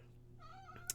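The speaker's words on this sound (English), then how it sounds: "please forgive the mewing" A pet cat gives one short meow that rises and falls, close and moderately loud, ending in a brief sharp click over a faint steady hum.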